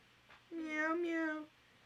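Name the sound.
voice imitating cat meow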